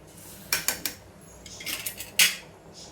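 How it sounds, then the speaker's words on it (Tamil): Chicken biryani stirred in a metal pot, a few sharp clinks and scrapes of the spoon against the pot, then a louder metallic clank as the lid goes on; close and brief, no talking. "இப்போ அடி வர நல்லா கிண்டி விட்டு மூடி வச்சிடலாம்"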